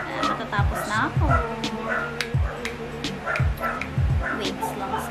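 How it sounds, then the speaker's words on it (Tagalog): Several dogs bark and yip in sharp, repeated bursts close by, with a whimper in between, while someone talks over them indoors during a makeup session. "Pasensya na pala kayo sa mga aso, guys."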